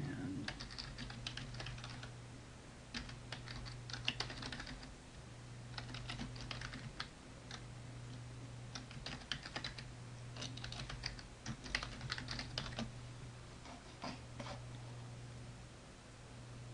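A password is typed on a computer keyboard in bursts of quick, close key clicks separated by short pauses, with no voices.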